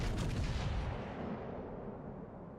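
A heavy naval gun salvo from the battleship HMS Renown in World of Warships Legends booms out loud and close, then rumbles away in a long fading tail.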